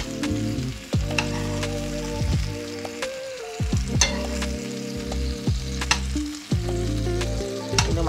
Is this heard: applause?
no